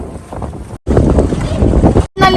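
Strong wind buffets the microphone during a boat ride on a lake in rainy weather, roaring loudly in two bursts broken by brief drops, with a voice talking over it.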